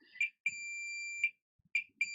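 A high electronic multimeter continuity beep sounds repeatedly, one long steady tone between short chirps, with faint clicks and handling noise underneath, while probing a capacitor on a Samsung S3 phone board.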